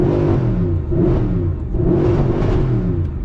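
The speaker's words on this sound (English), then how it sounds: "fire up that glorious V8 engine with the start-stop button" A Mercedes SLS AMG V8 engine revs loudly and close up, with two rising and falling swells of deep, throaty engine roar and no talking.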